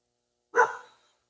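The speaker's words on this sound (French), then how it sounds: "Ça c'est ma chienne qui jappe parce qu'il y a quelqu'un qui marche sur ma terre." A female dog gives a single sharp bark outdoors at someone walking across rural land, close and loud, then a short fading tail into silence.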